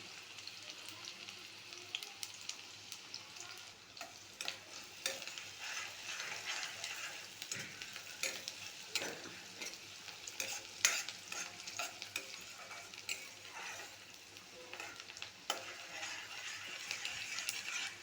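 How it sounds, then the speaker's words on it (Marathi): Garlic frying in tempering oil for a potato and masoor dal amti, a quiet steady sizzle with frequent small scraping and clicking stirring sounds, close by and without voices. "मी लसूण आधी फोडणीला घालते"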